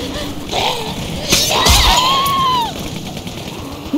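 Screaming voices in The Walking Dead video game, rising cries over a gunfire-like crash, fairly loud and lasting a couple of seconds before fading.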